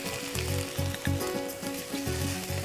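Vegetable korma sizzles steadily as it fries in a pan, a continuous close crackle running under a repeating tonal background, with no talking.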